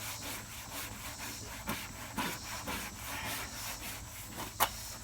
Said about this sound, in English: I'll keep in mind to use a soft bristle brush.